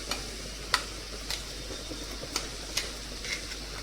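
Diced ivy gourd (dondakaya) frying in a pan, a steady soft sizzle with several sharp clicks of a spatula or spoon scraping the pan at irregular intervals, close and fairly quiet, with no talk.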